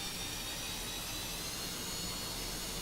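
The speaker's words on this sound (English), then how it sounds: "I'll hit the starter, and then we can probably see our RPM going up" A jet engine spools up during a start in the DCS flight simulator game, a steady loud whine and broad roar that hold throughout with no talking.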